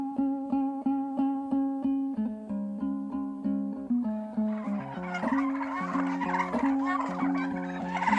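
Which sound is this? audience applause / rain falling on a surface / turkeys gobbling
turkeys gobbling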